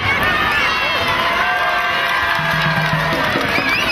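A crowd at the Sarcelles town carnival cheering and applauding, a loud, dense roar of clapping and shouting voices, with children's cries, sustained throughout.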